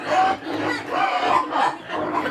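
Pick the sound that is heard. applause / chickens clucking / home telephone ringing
chickens clucking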